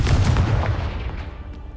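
A Confringo blasting spell in the Hogwarts Legacy video game, a loud booming blast right at the start that decays into a rumbling tail, heard alone.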